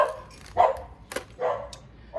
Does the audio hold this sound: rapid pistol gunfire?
no